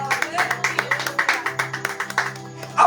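Church congregation at an apostolic service clapping for Jesus, a steady run of sharp, close handclaps in a quick rhythm with voices underneath.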